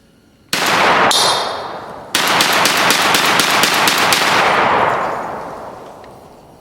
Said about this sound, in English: I think I shot him too fast for the smoke to catch up.